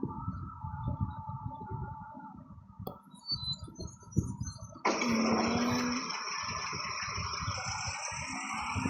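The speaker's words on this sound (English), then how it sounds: "Yes, start the engine." A car engine cranks and catches partway through, then settles into a steady, loud idle that continues to the end, after a stretch of low rumbling background.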